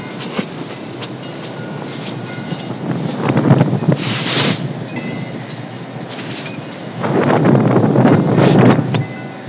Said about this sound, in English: I think this wind, personally,